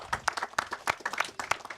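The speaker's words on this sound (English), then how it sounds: "Please give them a round of applause." An audience at an outdoor Eid-ul-Fitr celebration in Princes Town claps briefly in a short, brisk burst of scattered clapping.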